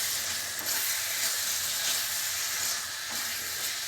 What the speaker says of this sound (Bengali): গরম মশলা দিয়ে এবার নাড়িয়ে একটু নামিয়ে নেব